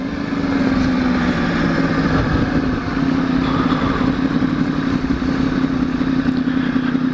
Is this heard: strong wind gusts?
no